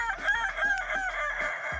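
A kukuak balengke rooster, a West Sumatran crowing breed, gives one long, close, loud crow with a wavering, stuttering, drawn-out tone and a fading end, with no speech.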